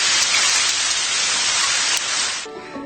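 Steady rain from a meditation app, a dense even hiss of falling drops that fills the clip and then thins out near the end, with no voices over it.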